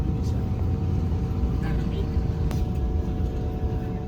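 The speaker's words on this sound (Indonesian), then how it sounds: "Bus bergerak menuju ke pintu keluar terminal Bungurasi." A bus rolls toward the exit of Bungurasih terminal, a steady low engine rumble and road noise filling the space, with a faint tonal whine and an occasional click riding over the drone.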